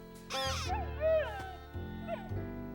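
A cartoon dog whimpers and yips in a few short, pitch-bending cries over a soft musical backing, close and moderately loud.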